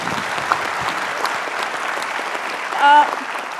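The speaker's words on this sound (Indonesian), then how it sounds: "terima kasih sudah hadir, kita kasih tepuk tangan" Studio audience applause on an Indonesian television talk show, a dense steady wash of many hands clapping at even level, with a brief voice rising near the end.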